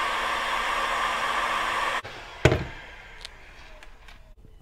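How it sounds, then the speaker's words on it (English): Heat gun blowing hot air over a 12V LiFePO4 battery wiring harness, a loud steady broadband whoosh for two seconds that cuts off abruptly, followed by a sharp tap and a few faint clicks against a quiet background. "Next we're going to use the heat gun."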